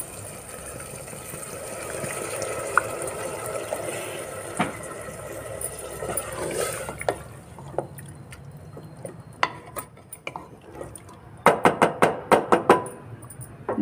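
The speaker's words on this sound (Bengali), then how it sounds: "এই যে মটর আর আলুগুলো কষানো হয়ে গেছে, এবারে জলটা দিয়ে দেব।" Water is poured into a pot of sautéed peas and potatoes for homemade ghugni, a steady splashing rush lasting several seconds, followed by scattered clicks and a quick run of metallic taps near the end.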